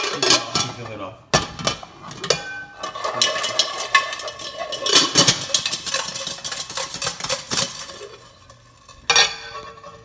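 Hard-boiled eggs shaken inside a lidded pot to crack their shells, producing a dense, rapid rattle of eggs knocking against the metal pot and lid, loud and close, with brief pauses and a final bang.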